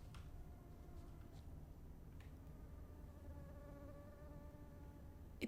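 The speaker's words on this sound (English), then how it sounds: "It fucking sounds as if there's a mosquito." A faint, steady mosquito buzz drones continuously in the Toussaint region of the PC game The Witcher 3: Blood and Wine, with a quiet background ambience beneath it.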